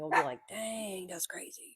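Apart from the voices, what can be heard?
dogs barking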